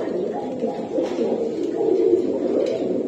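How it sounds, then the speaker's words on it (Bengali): Pigeons at a market stall selling high-flyer breeds coo in low, throaty, overlapping calls, close by and continuous over a busy background. "ভাই এই জায়গায় আরো এক পেয়ার কবুতর আমি দেখি"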